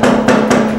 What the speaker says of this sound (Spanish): hay que pegarle aquí un poquito con un martillo de goma para que la caja se mantenga en posición